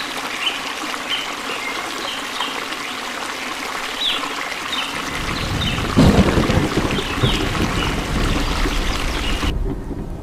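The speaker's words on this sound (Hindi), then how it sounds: "अरे, बारिश अभी तक हो रही है, लगता है नहीं रुकेगी।" Heavy rain pours steadily throughout, with low rumbling thunder building and growing louder partway through before the sound suddenly cuts off near the end.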